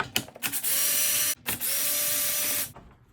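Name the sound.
cordless drill removing bolts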